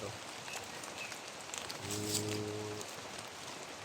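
Heavy rain falls in a steady, dense hiss throughout, with a brief low moo-like tone partway through and a single spoken word.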